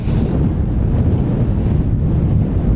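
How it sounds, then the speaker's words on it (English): Strong wind buffets a drone operator's microphone outdoors in a residential area, a loud, continuous low roar that fills the whole clip with no pauses and no speech. "But look at this wind, it's too much."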